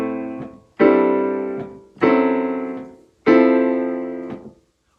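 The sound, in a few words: guitar playing descending minor line cliche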